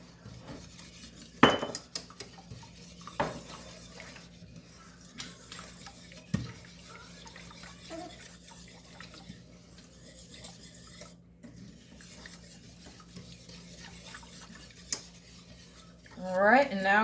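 Pasta in a pot being stirred, heard as quiet scraping and occasional sharp clinks of a utensil against the metal, spaced out over a low background, with a brief voice near the end.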